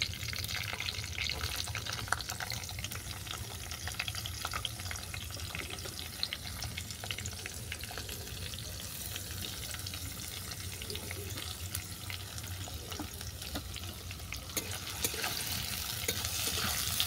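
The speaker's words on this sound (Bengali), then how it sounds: "পেঁয়াজটাকে হালকা করে ভেজে নিচ্ছি।" Chopped onions frying in oil with curry leaves in a pan for a chicken curry, making a continuous soft, close sizzle with faint stirring clicks throughout and no talking.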